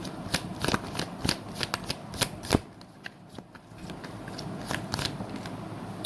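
Tarot cards are shuffled and drawn by hand, making crisp riffling clicks and sharp card snaps in a close, irregular run that quiets toward the middle before lighter handling resumes.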